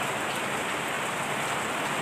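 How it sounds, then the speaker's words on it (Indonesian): Light rain falling steadily near a chicken coop, a soft, even hiss of pattering drops that runs without pause and with no voices. "Kita sambil mendengarkan rintik-rintik hujan"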